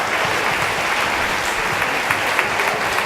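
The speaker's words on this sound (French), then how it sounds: "Je pense quand même qu'on peut les applaudir encore." An audience applauds performers after a children's dance and song show, producing a loud, dense wash of clapping that stays steady from start to finish with no voices on top.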